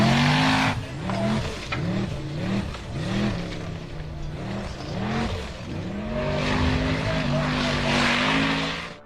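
Engine of white off-road buggy number 121 revving hard as it climbs a steep sandy slope, loud and close, with repeated rising whines, brief drops between them and a long sustained roar at the end.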